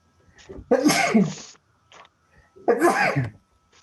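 Two loud, close sneezes about two seconds apart break the quiet during a recorded school class, each a sharp intake followed by an explosive burst.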